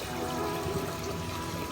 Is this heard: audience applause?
no